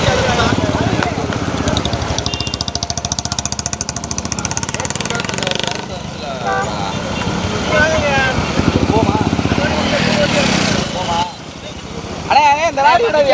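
Motorbike engine rattling loudly close by at a rural bull-running event, a harsh rapid putter that dips and returns, with people shouting over the noise throughout.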